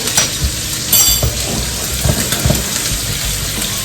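Wagyu steak sizzles loudly in a hot pan with butter, a steady dense crackle and hiss with occasional louder pops, close and continuous with no talking.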